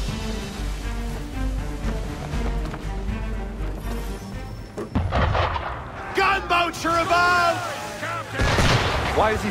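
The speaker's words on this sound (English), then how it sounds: "Why is he shooting at us?" Cannon fire from a ship in the game Assassin's Creed 3: heavy booming blasts over a rumbling, dense game soundscape, with a sharp burst near the middle, followed by people talking loudly over continued noise.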